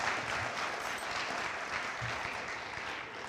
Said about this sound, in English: So now you can clap.